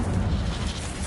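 Fire spell cast in a Harry Potter video game, a steady low roaring whoosh of magical flame that holds at an even loudness for about a second, with no voices over it.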